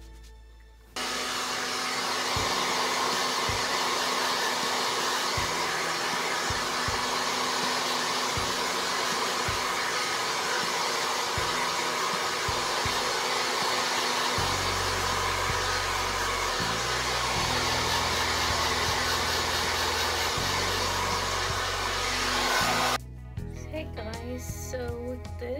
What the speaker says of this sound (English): And I blow dry it.